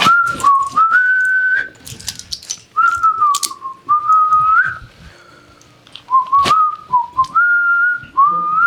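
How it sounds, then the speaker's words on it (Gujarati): A person whistles a wavering tune in short melodic phrases with brief pauses between them. The whistling is clear and close, and faint background noises sit underneath. "આ સીટી વગાડવાનું બંધ કર ને."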